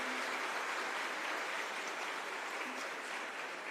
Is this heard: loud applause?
yes